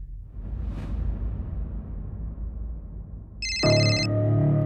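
A phone ringtone starts abruptly near the end, loud and close with a bright repeating tone, after a stretch of low rumbling background and a brief whoosh; the call goes unanswered.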